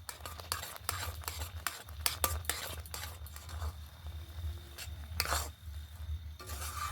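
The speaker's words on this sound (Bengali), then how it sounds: "আর এইভাবে একটু নাড়াচাড়া করতে থাকতে হবে।" Semolina is stirred into milk in a pan over low heat, giving soft scraping strokes and occasional light clinks of a utensil close by, with a low hum underneath.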